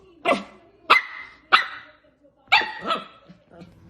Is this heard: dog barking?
yes